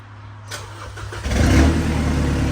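An Isuzu D-MAX (2020 model) started with a push-start button: a brief starter crank followed by the engine catching and settling into a loud, steady idle rumble close by.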